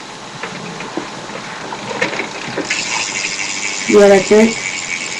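Rear hub of a BMX bike with a 9-tooth driver gives a loud ratcheting buzz, a fast clicking burst near the end with a brief squeal, while a person talks over it.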